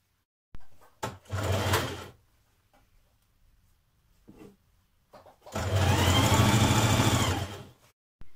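A domestic sewing machine stitches a dress shoulder seam in two bursts, a short run and then a longer steady whirring run, close and clear, with quiet handling between.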